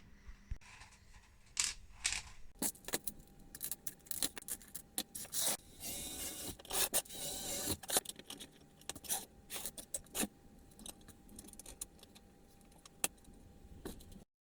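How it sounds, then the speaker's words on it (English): 4mm threaded rods being cut by hand, with irregular sharp snips, clicks and scraping bursts, fairly quiet and close, with no talking. "So I'm going to cut the rods"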